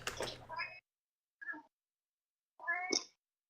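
A cat meows three times, close and clear, each call short with a rising, drawn-out tone, separated by brief silences in a quiet indoor room.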